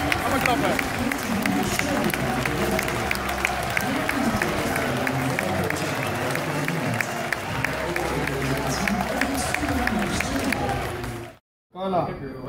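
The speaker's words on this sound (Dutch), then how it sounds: "Ga maar klappen." A crowd claps steadily and loudly at a meet-and-greet, dense applause mixed with voices and shouts throughout, cutting off abruptly near the end.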